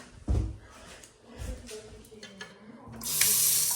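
Water runs from a tap in an American house. Soft handling bumps and knocks come first, then a bright, steady gush of running water starts near the end, close and moderately loud.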